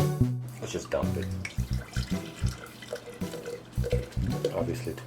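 Beer glugs and splashes as a bottle is upended and dumped into a stein, close up with bubbly pouring and dripping, a voice talking briefly over it.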